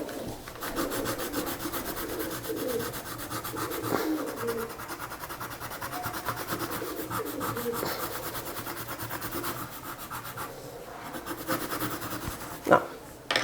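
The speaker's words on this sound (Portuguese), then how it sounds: "Vai apertando bem contra o papel." Colored pencil rubbed hard against paper in shading strokes, a continuous close scratchy rasp with rhythmic back-and-forth texture and a small tap near the end.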